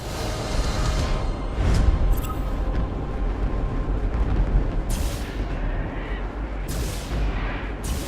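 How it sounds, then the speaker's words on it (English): Mines detonating in the space strategy game Battlefleet Gothic: Armada 2, heard as dense rumbling booms and deep blasts rolling continuously, with several sharper bursts cutting through the constant roar. "Tell them to detonate the mines. That explosion should clean our tails of these traitors."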